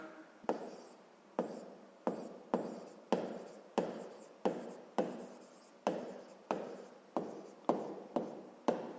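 Pen or chalk writing by hand on a board or paper during a sixth-grade maths lesson, heard as a steady series of about fourteen short scratchy strokes, each with a sharp onset and quick fade, close and fairly quiet with no talk.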